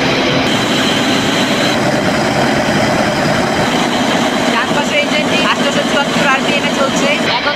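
Engine room of the Tarango 7 passenger launch on the Dhaka to Lalmohan run, where a loud, steady engine roar drones without a break, dense and rumbling throughout.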